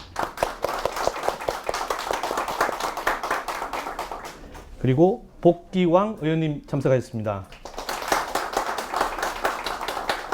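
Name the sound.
audience clapping as guests are introduced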